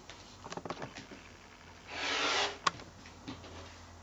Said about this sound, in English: we're going to trim, cut those in half along the drawn line